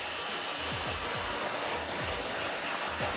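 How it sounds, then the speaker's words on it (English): A hair dryer blows steadily and loudly up close while drying short hair on a woman over 60, a constant whooshing roar with faint rhythmic brushing strokes underneath. "back and forth with fingers and the dryer"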